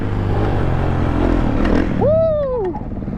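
Kawasaki KX450 dirt bike engine running steadily up close, its dense buzzing drone carried under wind noise, with a rising and falling whistle-like tone near the end.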